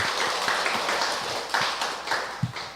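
Congregation clapping together at an early dawn church prayer service, a steady run of hand claps with sharper accents scattered through, moderately loud in a reverberant room.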